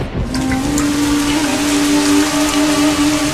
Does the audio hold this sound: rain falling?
yes